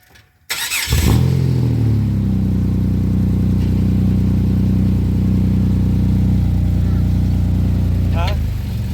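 A 1997–2002 Camaro/Firebird V8 cranks and fires after a rear end and fuel tank swap, then settles into a loud, steady, rumbling idle close by, with a brief rise near the end.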